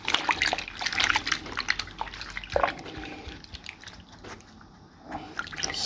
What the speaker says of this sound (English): And now we are going to wash this girlie's hair.